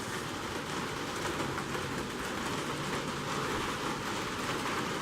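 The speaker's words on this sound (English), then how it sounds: "If you can hear me over the sound of this rain." Steady rain patters and hisses continuously at Reece Farm & Heritage Center, Georgia, a soft, even wash of drops on surfaces with no voices.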